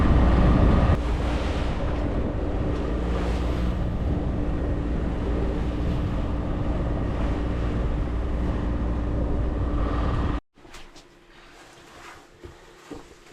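A sailboat motors along with its mainsail being lowered, a steady engine drone and wind rush filling the first ten seconds before dropping abruptly to quiet, sparse handling noises.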